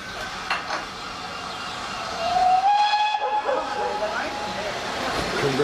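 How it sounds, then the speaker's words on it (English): A heritage railway train arrives at a station on the West Somerset Railway, with a rising rumble of rail noise and a whistle sounding at moderate distance while people talk nearby. "And the train is due."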